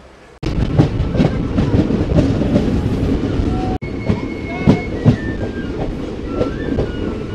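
The 13512 Asansol–Tatanagar express runs on the rails, a loud, continuous close clatter of wheels over track joints with rhythmic clicks and faint squeals, briefly dipping once before resuming.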